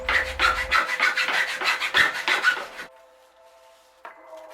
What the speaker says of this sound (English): Cut the sticks as marked.